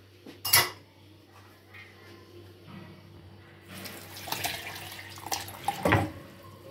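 Water is added to a pot of apple, cucumber and carrot pieces: a metal clank first, then a quiet pause, then running, splashing water with clattering of the pot and utensils.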